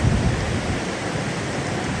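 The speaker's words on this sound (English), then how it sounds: "It's a little rain mixed with snow." Light rain mixed with snow falls steadily outdoors at a riverside camp on Memorial Day, a constant dense hiss with no breaks or voices.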